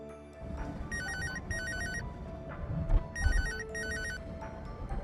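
A phone rings after a number is dialed, in a domestic drama scene: two bursts of a bright electronic ringtone repeat in a regular pattern over a low background rumble and soft movement.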